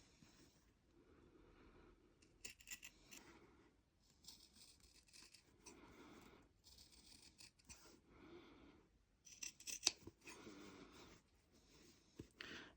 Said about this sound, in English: Nice sharp scissors are good for this,